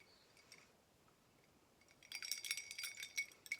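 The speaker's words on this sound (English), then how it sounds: "Sorry for the clinking." Glass-and-ice clinking from a homemade iced coffee with sugar-free hazelnut syrup, a quiet stretch then a cluster of bright, close clinks and taps filling the last second and a half.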